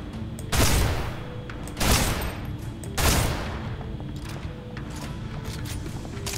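Three loud, evenly spaced bursts of gunfire, each with a short ringing tail, in the PC video game Snowbreak, with faint background game ambience between shots.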